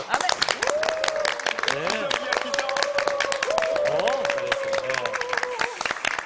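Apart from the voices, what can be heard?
studio audience applause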